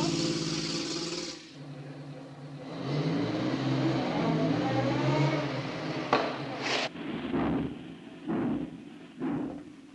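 An old car engine turns over and revs, settling into a mid-pitched running drone, then breaks into several uneven bursts and thumps toward the end, heard close and with no talk.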